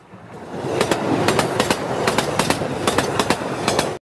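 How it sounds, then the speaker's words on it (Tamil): The 06436 Pondicherry to Villupuram MEMU train running, a loud steady rumble with rhythmic clickety-clack wheel beats over rail joints in repeated pairs, heard close from on board. "பாண்டிச்சேரியிலிருந்து கூட விழுப்புரத்துக்கு ட்ரெயின் போகுதா?"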